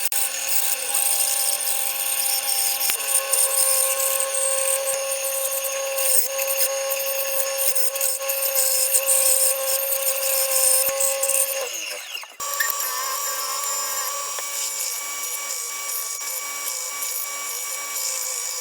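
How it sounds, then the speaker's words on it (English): A bandsaw cuts through oak wood while a slingshot is shaped, giving a steady, loud whining hum with a rasping bite that changes tone briefly partway through, then resumes. "I'm going to go ahead and cut this out on the bandsaw"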